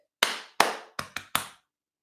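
A run of five sharp hand claps and pats on the chest, quick and close, falling in a clapping rhythm with a brief gap after the second beat, with no voices.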